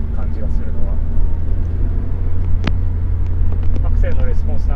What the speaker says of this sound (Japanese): アクセルのレスポンスなんかもね非常にいいですね。 すごいレスポンスがいいな。